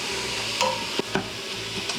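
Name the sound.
ground pork cooking through in an Instant Pot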